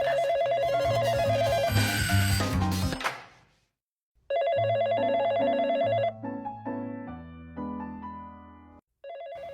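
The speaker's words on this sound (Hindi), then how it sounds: "जब भी घर में फोन आएगा मैं ही फोन उठाऊंगा?" A home telephone rings in a bright, repeating electronic melody, pausing once before ringing again loud and close.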